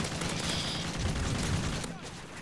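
Gunfire in a video game: a rapid, dense crackle of shots heard close and loud, continuing through the moment against a busy background.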